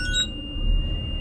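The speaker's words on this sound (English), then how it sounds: "I hear a buzzer, I see a light." A truck's air brake low-pressure warning buzzer sounds as a steady, piercing electronic tone at 65 psi, held continuously and close in a quiet cab.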